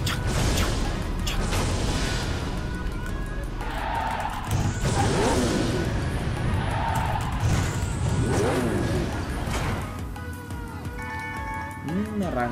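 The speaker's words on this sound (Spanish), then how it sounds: "Hace como un ruido raro la moto cuando cuando meto el mini potenciador" A video game motorcycle engine whines with an odd noise when a mini boost kicks in, under busy game effects and whooshes, with a voice talking throughout.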